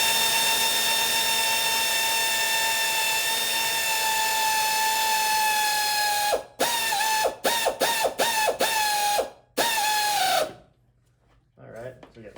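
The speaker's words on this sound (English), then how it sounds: "There's my air compressor." An air compressor runs loud and steady in a garage during a Toyota Corolla alternator replacement, its motor drone broken by several short bursts and cutoffs before it stops near the end.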